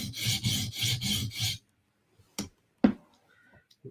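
Blade stroked across sharpening stones, five quick rhythmic rasping passes close up, then a pause broken by a few sharp scraping taps.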